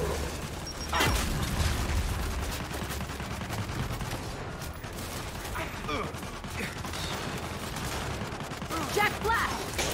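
Rapid turret gunfire in the video game Gears of War 5, sustained bursts of shots over booming impacts and mechanical clatter, loud and dense throughout with no break.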